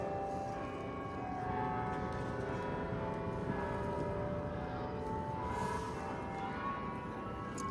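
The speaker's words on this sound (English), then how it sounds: "There's the church bells." Church bells ringing at 6 p.m. outside an Insomnia Cookies shop, a steady, resonant peal that carries on for several seconds with ambient street noise behind it.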